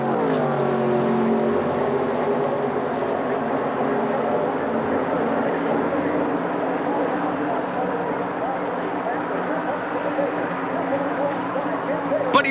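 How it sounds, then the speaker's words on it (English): NASCAR stock cars race around a track, a loud sustained multi-engine roar with shifting tones as cars pass, under continuous commentary from an announcer. "On turn 3, Allison is pulling away from Schrader"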